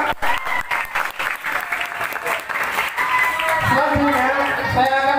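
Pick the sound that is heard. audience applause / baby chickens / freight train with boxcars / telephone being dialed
audience applause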